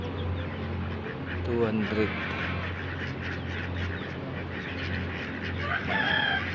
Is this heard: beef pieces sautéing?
no